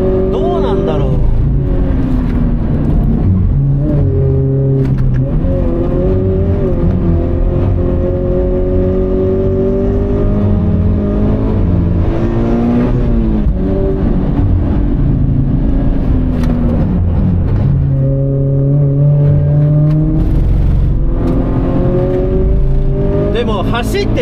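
A Toyota 86 GRMN driving hard on a circuit, its engine droning and rising and falling in pitch through corners, loud and continuous, with someone talking over it.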